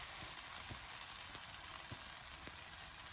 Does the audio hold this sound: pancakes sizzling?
yes